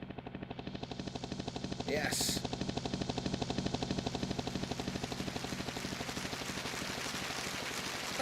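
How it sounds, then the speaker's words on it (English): A steady synthetic helicopter chop from a Suzuki QChord, with rapid rhythmic rotor pulses and a whooshing layer, running throughout; a voice briefly speaks near the start. "was there the helicopter in there somewhere?"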